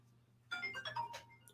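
A phone rings with an incoming call, a short melodic ringtone burst over a faint low hum.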